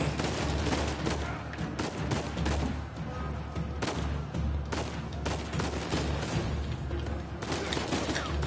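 Rapid gunfire in an Uncharted-style action adventure game, steady bursts of shots and fusillades repeating throughout at moderate level, dense and continuous without a break.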